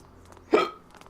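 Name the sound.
character hiccuping in Back to the Future video game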